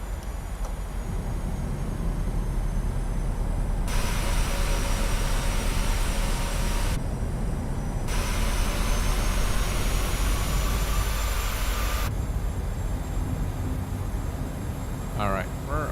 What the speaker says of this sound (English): And we are going to lower the landing gear.